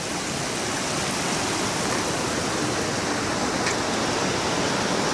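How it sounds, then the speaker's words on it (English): A small creek fed by a waterfall at Thousand Springs rushes in a loud, constant, close-up wash of water that never lets up. "Little creek fed by the falls."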